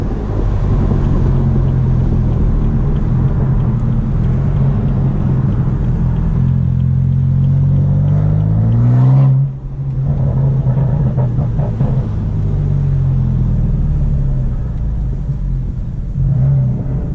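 Lamborghini cars drive and rev nearby, a loud, deep engine rumble that holds steady for most of the stretch, with one rising sweep around the middle before the drone settles again.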